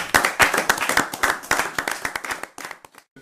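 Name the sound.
audience applause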